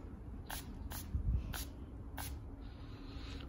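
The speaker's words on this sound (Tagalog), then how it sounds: "Mag-spray tayo." Perfume is sprayed onto a bed in four quick, faint hissing bursts spaced about half a second to a second apart, with quiet room noise between them.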